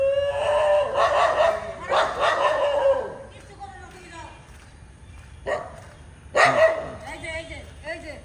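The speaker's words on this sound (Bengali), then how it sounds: "এটা এত ঘেউ ঘেউ করতেছে" A dog barks near the district commissioner's office in a string of loud, close barks, with a pause in the middle and another burst toward the end, over faint background noise.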